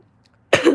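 A single loud, close cough bursts out after near silence, harsh and throaty.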